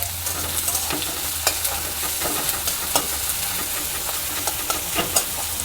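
Chopped medium-sized onions frying in a pan, a steady bright sizzle under repeated sharp scrapes and clinks of a spatula stirring against the metal, a low hum running beneath.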